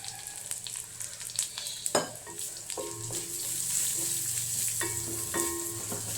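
Spices sizzle and crackle in a very hot pan, with a steady hiss and scattered scraping taps as they are stirred.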